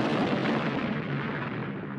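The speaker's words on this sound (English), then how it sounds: "It exploded." An enormous cannon explodes with a deep, rumbling blast that sustains and slowly decays over a couple of seconds, loud and alone.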